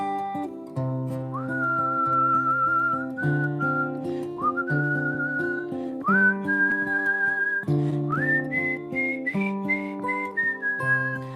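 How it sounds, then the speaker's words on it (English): A person whistles a melody, with a clear, steady pitch rising in steps across phrases, heard over a soft sustained musical backing. "I'm gonna try to whistle."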